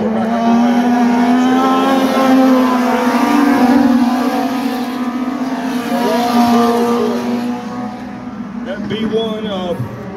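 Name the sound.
legend cars racing around a track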